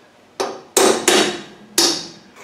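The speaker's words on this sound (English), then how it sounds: "just use a hammer and punch and turn the uh, turn the screw" Hammer and punch striking a brake drum adjuster screw on a Land Rover 2.5 NA diesel: four sharp, loud metallic blows at an uneven pace, each ringing briefly before the next, with a softer fifth tap at the end.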